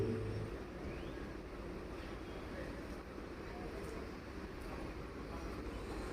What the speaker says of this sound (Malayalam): ഇന്ന് നമ്മൾ യാത്ര ചെയ്യുന്ന ഈ പോത്തന്നൂർ മേട്ടുപ്പാളയം മെമു ട്രെയിൻ അത്യാവശ്യം പഴക്കമുള്ളൊരു മെമു ട്രെയിനാണ്